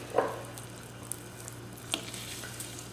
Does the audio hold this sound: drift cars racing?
no